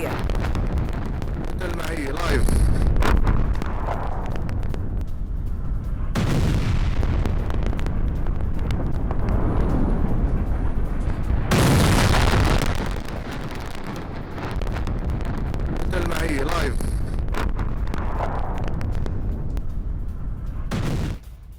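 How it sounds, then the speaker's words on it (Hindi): Heavy blasts from airstrikes on a Hezbollah weapons depot, with deep rumbling booms and a rolling shock wave swelling and fading several times, loud and sustained with broad roaring noise throughout. "बमबारी से उठे घातक शॉक वेव की ये तस्वीर देखिए"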